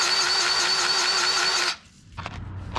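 A Ventrac 4500Z tractor engine runs with a loud, steady buzzing drone, then cuts off abruptly partway through, leaving a few light mechanical clicks and rattles close by.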